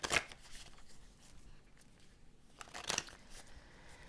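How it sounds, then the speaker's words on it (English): Oracle cards being shuffled by hand, heard as two short, crisp riffling bursts about three seconds apart against a quiet background. "let's pull a few oracle cards here and wrap it up."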